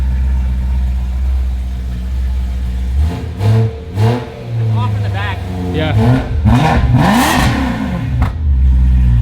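A BMW E9X M3 S65 V8 engine with valved aftermarket exhaust, valves closed, revs hard several times in sharp bursts, loud and close, between stretches of low rumbling idle, with people talking over it.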